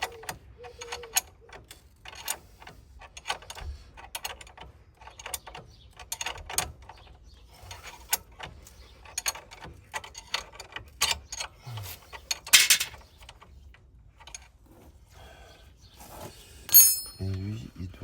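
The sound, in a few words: tightening wishbone bolt on Citroën C5 / Peugeot 407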